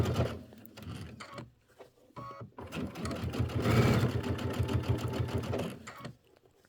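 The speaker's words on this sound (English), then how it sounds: "we're going to be stitching it down" Sewing machine stitching quilt fabric in short, rapid mechanical bursts with brief pauses between runs, close and fairly quiet, with almost no talk.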